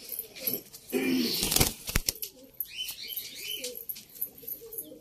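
Pigeons in a loft make soft cooing calls mixed with a burst of wing flapping, close by, with faint chirps and low speech in the background.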